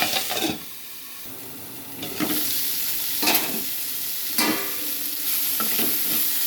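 Bitter gourd, onion and green chili fry in a pan with a steady loud sizzle, broken every second or so by the scrape of stirring, close up and with no voices.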